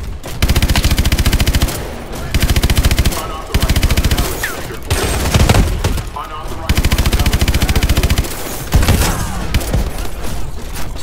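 Sustained bursts of automatic gunfire and explosions from the Call of Duty Advanced Warfare campaign, loud and dense with brief pauses between volleys.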